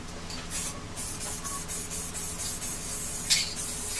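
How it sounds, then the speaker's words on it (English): 3D scanning spray hisses from an aerosol can in a series of short repeated bursts, close and fairly loud, with no one talking. "this is actual scan spray"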